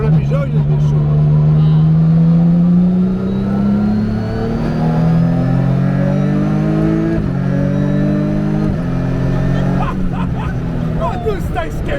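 A race car accelerates hard along asphalt, its loud engine climbing in pitch through several quick, connected upshifts, each marked by a brief drop before revving up again, with voices talking underneath.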